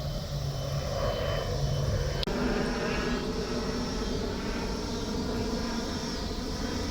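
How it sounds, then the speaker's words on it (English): Airplane engine droning steadily as it passes low overhead on approach above a rural homestead, loud and continuous with a broad rumbling roar throughout. "The airplanes approach right over us"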